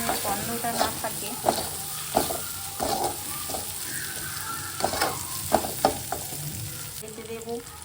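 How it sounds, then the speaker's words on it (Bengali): Tomato with ginger garlic paste fries in a pan, a steady close sizzle broken by repeated scraping stirs and utensil knocks, with brief faint voice at moments. "ভালো করে নেড়ে চেড়ে নেব যাতে আদা রসুনের গন্ধটা না থাকে।"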